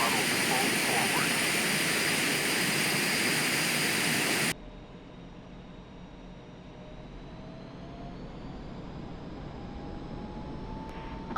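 An F-5E jet engine in the DCS World flight simulator roars loudly as a broad, steady rush, then cuts abruptly to a much quieter, low whining hum that continues to the end.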